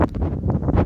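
A light wind buffets the microphone outdoors during a Mavic 2 Zoom drone flight, a brief, close gusty rush with no talking.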